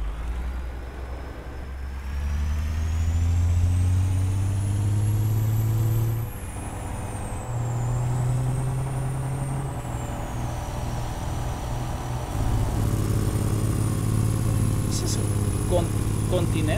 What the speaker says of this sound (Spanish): Vean, amigos, a puro freno de motor con la guapa